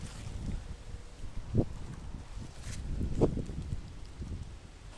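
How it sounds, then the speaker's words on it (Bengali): Strong wind gusting across an open pond during a winter fishing trip, a steady rushing roar buffeting the microphone with brief louder gusts and rustling, with no voices. "আর ভীষণ ঝড় দিচ্ছে বন্ধুরা দেখুন ভীষণ ঝড় দিচ্ছে"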